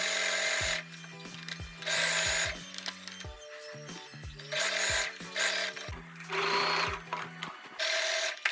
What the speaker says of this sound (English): As I'm stitching, I'll ensure the fabric lay down nice on each other